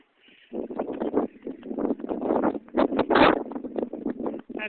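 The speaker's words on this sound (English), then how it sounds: "Not sure if you can hear the wind." Strong blizzard wind gusts buffet the microphone in a snowy driveway and alley, a rough, fluctuating roar that surges and eases in uneven bursts for most of the stretch.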